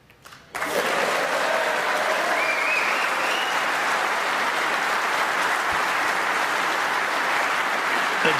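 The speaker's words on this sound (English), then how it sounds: "A deserved round of applause," Sustained applause from a snooker crowd at the World Grand Prix match between Judd Trump and Ali Carter, rising suddenly after a brief quiet moment and holding as a steady, dense roar of clapping through to the end.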